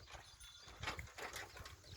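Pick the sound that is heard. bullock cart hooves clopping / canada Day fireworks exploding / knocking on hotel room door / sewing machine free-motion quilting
bullock cart hooves clopping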